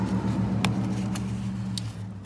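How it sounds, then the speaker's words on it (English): Steady road traffic drones past outside the open doors of an auto repair shop, a continuous low rumble of passing cars with a few brief higher swishes as vehicles go by. "Sorry about the traffic."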